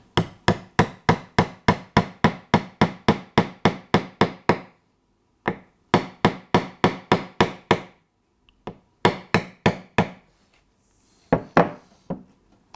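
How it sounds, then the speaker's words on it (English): Light hammer tapping a small track pin into a model railway sleeper, in quick regular bursts of sharp close knocks separated by short pauses, with a few slower taps near the end and no talking. "So hopefully that will go into the hole I just drilled, and then tap it in slowly, and hopefully we don't bend it over."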